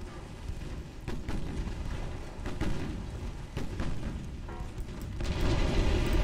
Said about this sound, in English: They lost 30 crew in that explosion.